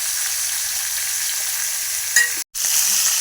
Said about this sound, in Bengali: মাংসটা এবার একটু ভেজে নাও